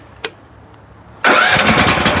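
A 16 hp walk-behind tractor with electric start gives a sharp click, then after a second of near silence its engine catches and settles into a loud, steady close running roar.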